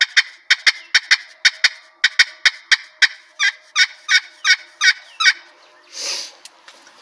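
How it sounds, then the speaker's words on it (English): Sharp cutting notes are played on a slate turkey call, a fast, loud run of about twenty close yelps and cuts, with a brief scrape near the end. "Now cutting's real similar. You just put it here and pop it back."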